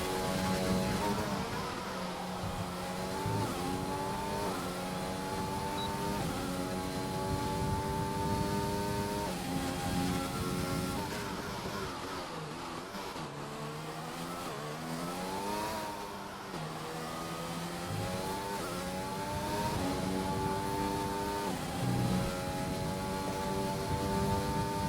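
Onboard engine note of a Mercedes race car lapping the Australia circuit in a racing video game, a loud continuous whine rising and falling through repeated upshifts and braking downshifts, nearly alone with almost no talk.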